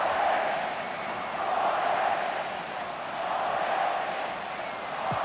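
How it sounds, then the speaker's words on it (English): Finnish football supporters at a Finland v England match, a broad, steady stadium roar rising and falling gently, distant and continuous without clear individual voices. "you can hear it now, the Finnish crowd, and it's grown a little bit in the last 20 minutes or so, getting behind their team"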